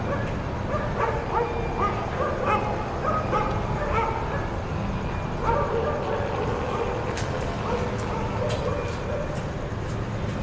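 Several dogs bark and yip at a distance, scattered calls over a steady outdoor hum, with some voices now and then.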